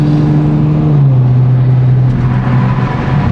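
Inside a modified Audi S5 on the move, a loud, steady engine drone holds near one pitch and dips slightly in tone partway through, with no talking.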